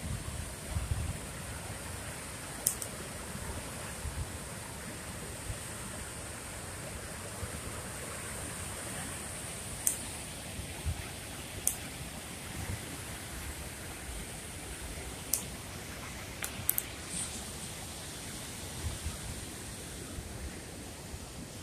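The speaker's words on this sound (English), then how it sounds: "It's been a rainy day today and yesterday." Steady outdoor rainfall makes a soft, even hiss throughout, broken by a few faint clicks and light taps.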